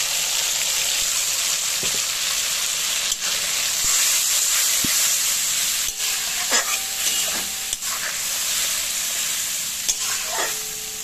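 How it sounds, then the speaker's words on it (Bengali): Spice paste fries in a pan over low heat, giving a steady, close sizzle and hiss throughout, with scattered stirring scrapes and clinks; pea and fish curry cooking without onion or garlic. "গ্যাসের স্টিমটাকে লোতে রেখে আমি এই মশলাটা খুব সুন্দরভাবে কষিয়ে নেব"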